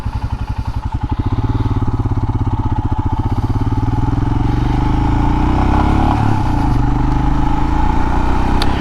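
A Royal Enfield Himalayan single-cylinder motorcycle rides along a trail, its engine thumping in a close, steady pulsing rhythm that smooths into a continuous drone with wind rush.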